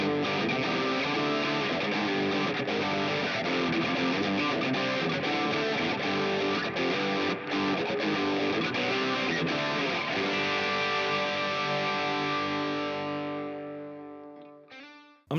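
A Vintage V100THB electric guitar played through a Marshall Plexi amp model gives a steady crunchy distorted tone in continuous chords and riffs. It runs loud and alone for about fifteen seconds before cutting off with a brief final noise.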